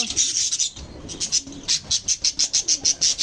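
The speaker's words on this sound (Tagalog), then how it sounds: "Pagising ko sa umaga, mga alaga kong parakeet." Pet parakeets and lovebirds call close by in rapid, repeated chirps that settle into a quick, even rhythm of sharp, bright notes.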